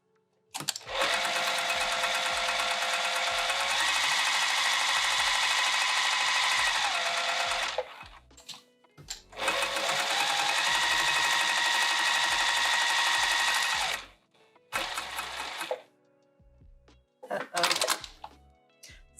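A home sewing machine stitches a piped bag in two long steady runs of rapid, even whirring, with pitch shifts as speed changes, followed by short bursts and handling noises.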